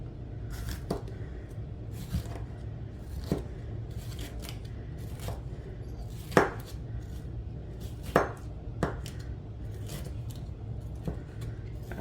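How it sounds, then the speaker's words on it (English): A kitchen knife slices the tops off bell peppers on a cutting board, with irregular crisp crunches and taps every second or so and a couple of louder cuts, close and without speech over a low room hum. "Something I do when I clean the peppers is I always cut off the part where the top is"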